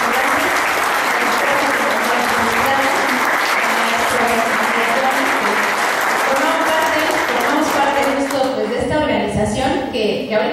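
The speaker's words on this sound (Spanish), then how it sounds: "me gustaría que brindáramos un aplauso" Loud, continuous crowd applause filling the hall at the closing of an international education congress, dense clapping sustained for over ten seconds with some voices mixed in near the end.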